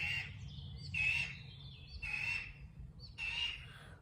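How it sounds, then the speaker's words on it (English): A red-tailed hawk gives three or four raspy, screeching calls at roughly one-second intervals, moderately distant, over a low background rumble. "Why does a red-tailed hawk have to make that sound while I'm doing this video?"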